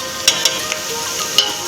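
Spices tempering in hot oil, a soft steady sizzle under a few sharp clicks and ticks from a spoon or pan, close by and with no one talking.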